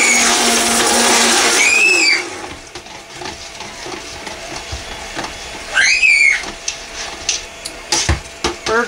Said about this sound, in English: Bird's getting loud now.